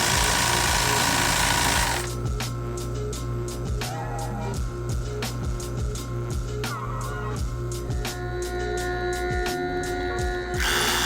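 A sewing machine hemming the bottom of a garment, sped up: a dense, steady mechanical whir with fast, even stitching clicks and periodic sharp ratchety knocks, continuous throughout.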